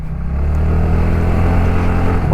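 TVS Ntorq 125 hybrid XP scooter engine revving hard on the throttle, a loud, close, steady engine roar with no talking.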